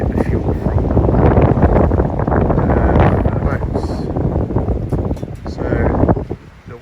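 Strong, gusty wind buffets the microphone near dockyards by the Tamar Bridge, giving a loud, uneven low rumble that swells and eases over several seconds before dropping off at the end.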